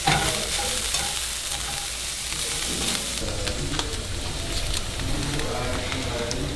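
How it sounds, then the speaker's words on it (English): Ground chicken breast sizzles in pans as a constant loud crackling hiss, with occasional stirring scrapes and clatter close by. "I'm just cooking up a ton of ground chicken breast"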